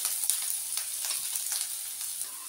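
Chopped ginger and garlic fry in hot refined oil, giving a steady, close sizzle with faint crackles throughout and no voices.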